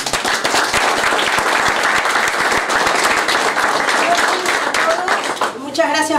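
Steady, full audience applause at a political candidate list presentation, dense clapping throughout that ends as a person begins speaking.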